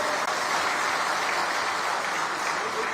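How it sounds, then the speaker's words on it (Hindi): A hall audience gives steady, loud applause welcoming India's Vice President Jagdeep Dhankhar, a dense wash of many hands clapping together without a break for three seconds. "मेरा सबसे निवेदन है जोरदार ताली बजाकर उनका स्वागत करें।"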